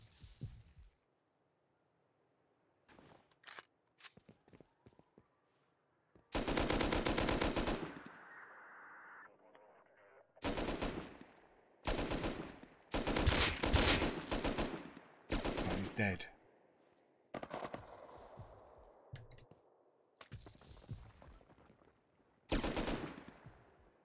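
Gunfire in Rust comes in loud, dense automatic bursts of several seconds each and scattered single shots, separated by near-silent gaps, with some faint talk between.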